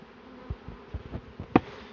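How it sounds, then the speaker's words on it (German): A swarm of honeybees is poured out into a box, giving a low, steady buzzing hum broken by soft dull knocks and one sharper thump. "Jetzt schütten wir gerade noch einen Teil der Bienen hier aus."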